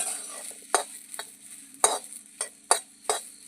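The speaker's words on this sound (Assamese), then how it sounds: "এয়া আগে কেৰাহীখন পাতি জলকীয়াখিনি অকণমান ভাজি লওঁ।" Chopped green chillies frying in oil in a wok under a continuous close sizzle, broken by several sharp scraping stirs at irregular intervals, with no voices.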